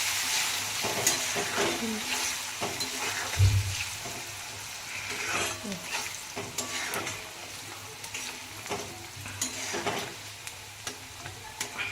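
Curry leaves sizzle in hot oil in a pan while being stirred for rava upma, a steady crackling hiss broken by repeated scrapes and clicks of the spoon against the metal, close and moderately loud with no voices.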